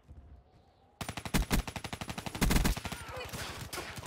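Rapid automatic gunfire in the video game Black Ops 3, a fast rhythmic burst of loud shots that begins abruptly after a quiet second and runs to the end, with a brief voice in the background.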